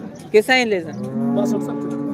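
A cow at the Modnimb cattle market gives a loud, close moo: a short opening bleat, then a long, drawn-out low call with a steady tone.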